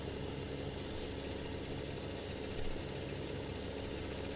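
A Case tractor engine in Farming Simulator 15 runs with a steady low rumbling, knocking idle close up, alone and unbroken, with a brief slight rise near the end.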